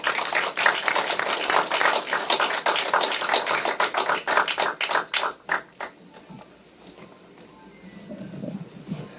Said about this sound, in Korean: 박수로 좀 맞이해 주십시오